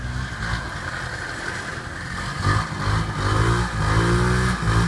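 The engine of a stuck 2017 Polaris RZR revs hard in rising bursts while a tire spins in place, loud and close with a rough, surging note.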